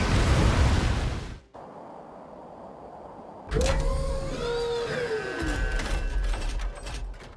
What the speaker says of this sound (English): UAV is ready to launch. Away!